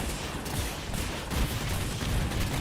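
Tank fire in a video game comes as a dense, continuous roar of booming gunfire and explosions, loud and close throughout with no clear gaps.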